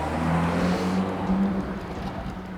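Quiet cars roll past on a Monaco street circuit, a steady low engine hum and smooth whir that stays fairly loud and close throughout, with no revving bursts.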